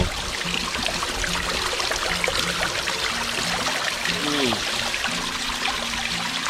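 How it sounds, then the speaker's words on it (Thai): Water pours steadily into a small garden waterfall pond, a continuous close splashing and trickling wash that holds even throughout, with no talking. "นี่ครับตกมาแล้วน้ำตกของเรา"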